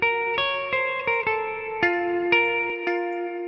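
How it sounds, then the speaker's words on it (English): An electric guitar is played through an SS11X amp simulator with adjusted EQ and hall reverb, a series of picked chords and single notes ringing out with a distorted, sustained tone and a reverberant tail. "SS11X on the stock settings, just mess with the EQ a bit and put the hall reverb."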